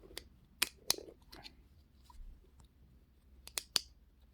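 A KTM TPI fuel filter part being pressed in and clicking into place gives a few sharp, faint close clicks and small plastic snaps, scattered across a quiet background without talk.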